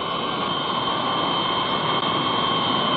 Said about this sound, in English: Yep, it's a plane, all right.